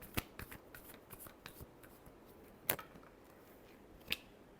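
Tarot cards being given a final shuffle, heard as a few sharp riffling bursts separated by quiet gaps, fairly close and soft.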